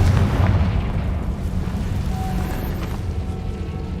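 Rumbling, booming blast from the Confringo fire spell in the Hogwarts Legacy video game, a sustained loud low roar lasting several seconds with no voices over it.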